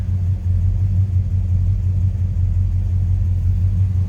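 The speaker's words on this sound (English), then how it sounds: "See how easily it starts." A 1966 Chevrolet C10 short-box, big-window pickup idles with a steady, deep engine rumble. The sound is close and continuous and holds an even tone throughout.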